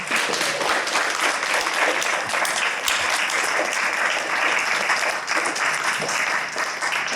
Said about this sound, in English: Please, some more applause for Lyudmyla Khersonska, Boris Khersonsky,